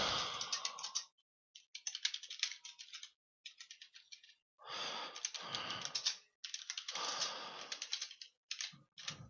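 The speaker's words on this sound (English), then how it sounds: "you simply type in a subject line like an email and a comment and click Save" Someone types a comment on a computer keyboard, quick clicking key bursts separated by short pauses, close and fairly quiet with no voices.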